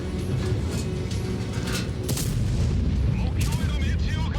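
A tank shell bouncing off armor during a heavy tank battle in a video game, heard as a rumbling blast and booming impact within continuous loud engine and battle noise.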